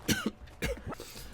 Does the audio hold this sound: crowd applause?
no